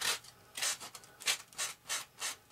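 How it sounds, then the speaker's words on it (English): Sandpaper rubs across paint on a model RC airplane, an F-86 build, in about six short, even back-and-forth strokes, close and clear, with no talking. "I'm gonna use a little bit of sandpaper here"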